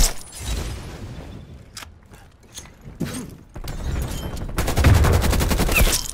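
Gunfire in the Call of Duty Cold War multiplayer video game, KRIG 6 assault rifle: scattered single shots and short bursts, then a dense rapid automatic volley near the end, loud and close with no talking.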